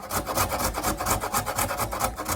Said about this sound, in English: just to show you how you can do this old-fashioned grater carrot